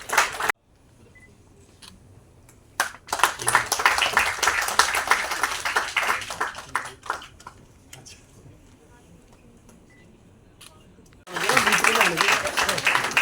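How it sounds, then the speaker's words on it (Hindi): An audience at a two-day national university workshop bursts into applause in two stretches, a dense clatter of clapping that fades out, a brief near-silent pause, then a fresh loud burst at the end. "जोरदार तालियों के साथ इनका अभिनंदन भी और धन्यवाद भी।"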